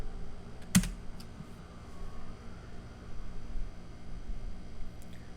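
A computer keyboard clicks as someone types a command into a cloud security tool, a few faint scattered keystrokes and one sharper tap over low room hiss, with no speech.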